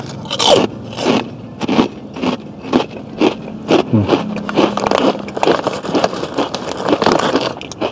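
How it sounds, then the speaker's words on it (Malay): Crisp keropok crackers are bitten and crunched up close, eaten alongside spicy ayam gepuk, with repeated sharp crunches in a steady chewing rhythm and no talking. "Keropok dia ni tak keras. Masuk mulut sedap."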